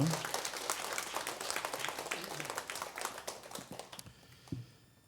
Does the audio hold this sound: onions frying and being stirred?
no